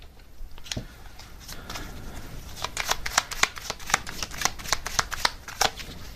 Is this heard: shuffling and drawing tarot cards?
yes